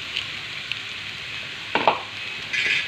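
Soaked bread mixed with spices goes into a pan of frying onions, giving a steady close sizzle, then a couple of stirring scrapes and a louder burst of hissing near the end.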